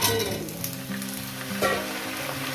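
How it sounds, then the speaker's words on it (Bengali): Catla fish head frying in a pan, giving a steady, close sizzle with a few louder crackling bursts; sustained low tones run underneath. "এইভাবে একটু ভেজে মিনিমাম সাত আট মিনিট ন মিনিট ধরে মানে আট ন মিনিট ধরে ভাজতেই হবে"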